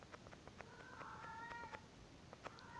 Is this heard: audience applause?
no